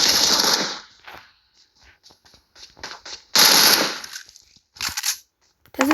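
Gunfire in the mobile battle royale game PUBG Mobile comes in sharp, loud bursts of rapid shots separated by quieter gaps, with short clicks and scattered reports in between.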